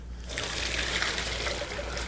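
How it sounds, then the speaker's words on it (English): Water from cooked asparagus is poured through a sieve into a kitchen sink, making a continuous, close splashing trickle that starts abruptly and keeps a steady flow. "Before I pour it in the sink, I think I should put my sieve in there."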